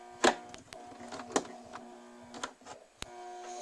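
A sewing machine straight-stitching a seam in stretch undies fabric, running in short bursts with brief pauses between them, close and fairly quiet, no talking.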